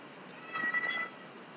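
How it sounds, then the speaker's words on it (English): A cat meowing for treats, one short, faint meow indoors against a quiet background. "Yes, Kitty, I know you want more treats, but you're not getting any more."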